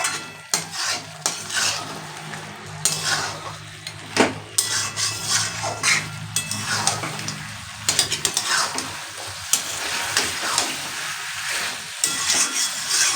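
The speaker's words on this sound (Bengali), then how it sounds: "দিয়ে কিন্তু এবারে আমি একটু কষিয়ে নেব।" Crushed garlic and chopped ginger sauté in a pan for a Bengali mutton dish, a steady sizzle broken by frequent scraping stirs and clinks of a spoon against the pan, up close with no talking.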